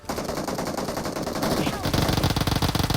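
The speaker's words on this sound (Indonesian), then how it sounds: "Dari mana lagi yang nembak nih?" Rapid automatic gunfire in PUBG Mobile on the Miramar map, dense repeated bursts throughout, growing louder and heavier toward the end.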